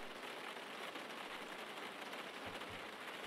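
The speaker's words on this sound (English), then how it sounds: "the rain has arrived" Rain falling steadily during a Porsche Carrera Cup race at Cascavel, a faint, even hiss of drops throughout with a brief low rumble near the end.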